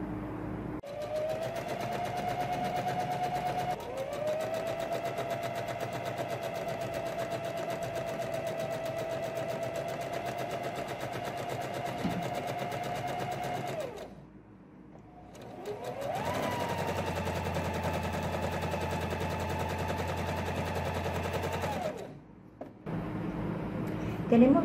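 A sewing machine runs a long gathering stitch on fabric for a girl's blouse and pants set, a steady whirring hum that stops briefly and starts again for a second run.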